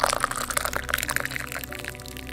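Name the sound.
hot liquid poured from a spout into a china cup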